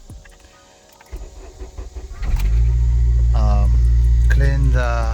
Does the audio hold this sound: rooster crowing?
no